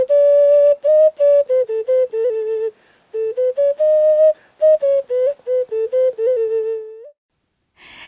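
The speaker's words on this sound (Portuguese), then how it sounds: "Mas bonito mesmo é ouvir os diversos sons das ocarinas do seu Chico do Apito." A clear, pure-toned ocarina plays a lively melody of short detached notes and a few held ones, solo and close, with a brief pause midway.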